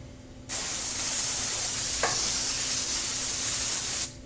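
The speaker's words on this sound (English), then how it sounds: "So now I'm going to use my spray." Olive oil cooking spray hisses into a heated pan in one steady, continuous burst of about three and a half seconds, close and fairly loud, with a brief faint clink partway through.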